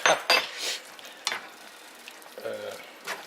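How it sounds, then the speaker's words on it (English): Food sizzling in a pan is stirred, giving a few loud scraping strokes over a steady frying hiss, with quieter clinks and pauses between them. "We're going to give this guy a stir here."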